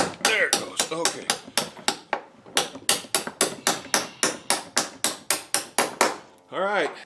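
A bolt is hammered into a Piper Super Cub wing fitting with about two dozen sharp, ringing metallic strikes in a fast steady rhythm, close and loud, with a short pause midway and a brief voice at the end.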